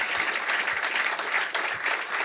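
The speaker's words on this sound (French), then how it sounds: "On va vous applaudir." Studio audience applauding guests on a sailing talk show, dense steady clapping from many hands throughout, close and even with no pauses.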